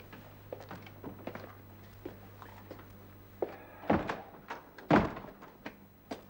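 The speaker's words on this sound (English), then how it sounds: "shut the outer door" An outer office door is shut with a couple of dull wooden thunks amid light shuffling and footsteps in a quiet period interior.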